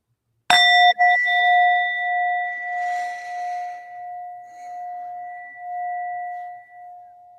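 A single struck chime rings out clearly, a bright metallic ding that sustains with clean ringing overtones and slowly fades over several seconds in quiet surroundings.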